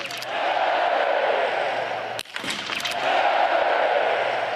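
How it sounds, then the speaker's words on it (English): Crowd noise at a men's 20 km biathlon race in Ruhpolding, Germany: a steady, loud roar of spectators, cut by a brief dip and a sharp hit midway, then rising again to a sustained cheer. "Crowd loves it."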